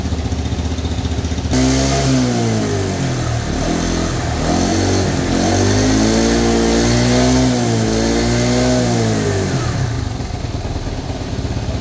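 A motorcycle engine warms up in a long, loud, close run of revving. The pitch rises and falls several times with no talk over it.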